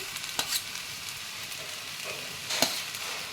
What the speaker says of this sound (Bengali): এবার আমি সবজিগুলো দিয়ে দিচ্ছি একে একে